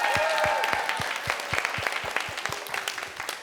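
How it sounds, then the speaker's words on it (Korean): An audience at a live music show claps, steady applause with a few distinct, rhythmic louder claps standing out above a dense wash of hands. "박수!"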